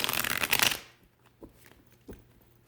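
A Patch Tarot deck is shuffled in a quick, dense riffle of cards for under a second, then a few soft taps and card handling sounds follow in near silence.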